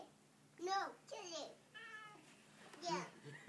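A cat meows several times outdoors in snow, drawn-out calls spaced across the moment, with a voice and an adult speaking nearby.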